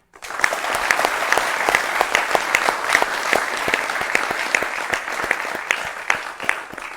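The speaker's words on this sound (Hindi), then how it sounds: "एक बार हमारी सशस्त्र सेनाओं के लिए बहुत बड़ी तालियां हो जाए" Large audience applauding at a televised Indian news event, dense steady clapping with occasional sharper claps standing out, sustained and fairly loud throughout with no talk over it.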